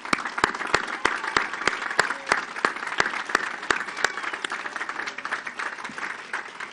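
At the USS John Warner commissioning ceremony, an outdoor audience applauds the submarine's crew. The clapping is steady and sustained, with sharp individual claps standing out clearly over the dense crowd applause.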